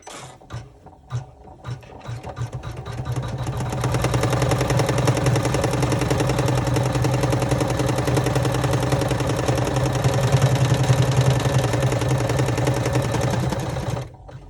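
A sewing machine runs a placement stitch on fabric for a chevron braid clutch, starting with a few short bursts before settling into a fast, steady mechanical whir with a rapid chattering needle rhythm, then stopping.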